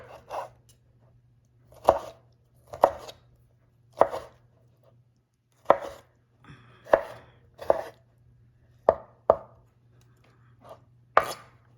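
Tomatoes chopped with a knife on a cutting board: about a dozen crisp, irregularly spaced strikes, close and clear over a low steady hum, with no talking.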